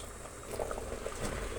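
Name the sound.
jackfruit seed sambar boiling in a pot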